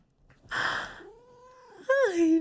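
A house cat meows close by in a quiet room, giving a drawn-out call and then a second rising meow after a brief pause.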